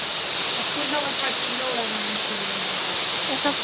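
Steady, heavy rain pours down outdoors near a mango tree, a dense continuous hiss of drops on surfaces, loud and close, with faint voices and bird-like chirps beneath.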